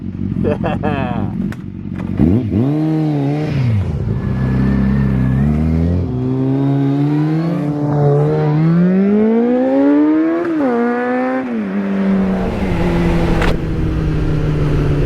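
A 1999 Kawasaki ZZR 600 mid-model sport motorcycle engine fires up and revs repeatedly, its pitch rising and falling through several loud, close throttle blips before settling back to a steady idle.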